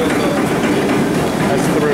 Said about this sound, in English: That's the reversing engine.